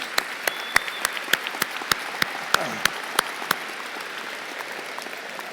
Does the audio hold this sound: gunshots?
no